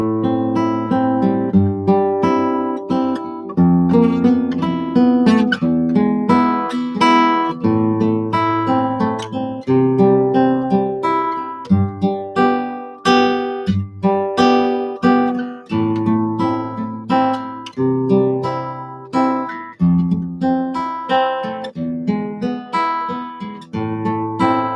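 Acoustic guitar fingerpicking accompaniment that blends two picking patterns: plucked notes in an even, rolling rhythm with regular bass strikes and chord changes, close and clear, played alone without speech.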